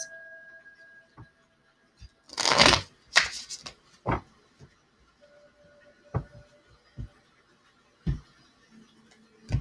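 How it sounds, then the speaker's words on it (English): Tarot cards are shuffled in a dense burst, followed by another quick riffle and then scattered soft taps and slaps as single cards are drawn and laid down, close and quiet in an otherwise calm room. "let's pull a couple more cards"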